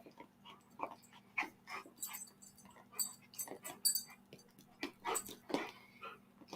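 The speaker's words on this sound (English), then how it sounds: "when we're fighting like this, he growls" A dog makes soft, irregular growls, whimpers and huffs while play-fighting with its owner indoors, quiet and close with no talking.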